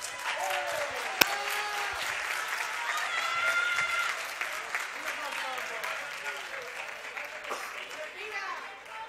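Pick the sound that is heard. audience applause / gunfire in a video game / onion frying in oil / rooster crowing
audience applause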